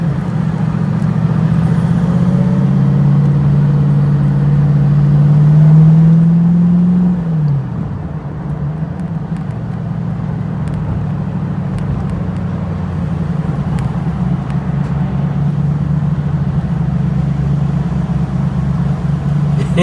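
A TVR Chimaera sports car is driven on a road in traffic. The engine drone climbs steadily in pitch, drops sharply at a gear change, then settles into a lower even hum, loud and continuous with no voices.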